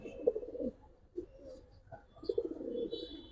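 A pair of deep blue-eyed Giribaz high-flyer pigeons cooing softly nearby, several low throaty coos in short bursts separated by quiet pauses.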